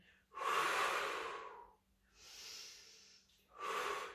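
A person exercising during low-impact cardio breathes hard near the microphone: a long forceful exhale, a softer inhale, then another strong breath out, each a noisy rush of air with brief quiet gaps between.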